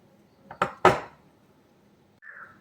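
A utensil knocks against a bowl while chilli gobi cauliflower is mixed with masala and cornflour: two sharp clinks close together, a pause, then a softer scrape.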